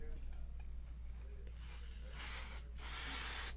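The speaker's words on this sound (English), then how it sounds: "I'm going to spray this." A spray can releases a steady hiss in two long bursts, the second stronger and lasting to the end, following a quieter stretch with a low background hum.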